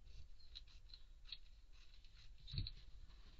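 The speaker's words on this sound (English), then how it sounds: "so I just have to cut it off now" Scissors cutting fabric off a marked pattern for men's African native wear: faint, soft snips and rustles close by in a quiet room, with one slightly louder thump near the end.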